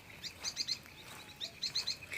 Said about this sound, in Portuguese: os passarinhos cantar, vendo, ouvindo e apreciando o bom da terra